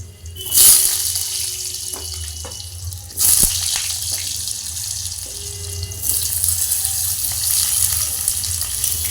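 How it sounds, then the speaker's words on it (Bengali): Cut potatoes frying in oil in a wok, a steady broad sizzle running throughout with a few sharp clatters and bursts where pieces are stirred, fairly close and with no talk. "এবারে আমি কেটে রাখা আলুগুলো আমি ভালোভাবে ভেজে নেব"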